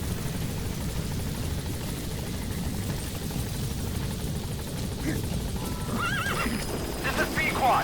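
The Pequod support helicopter from Metal Gear Solid V arriving, a heavy steady rotor drone filling the scene with low rumble, with horse whinnies and hoofbeats mixed in over it.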